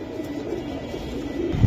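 Giribaz pigeons cooing at a pigeon farm, a low steady murmur of several birds nearby, alone with no talk, swelling slightly louder at the end.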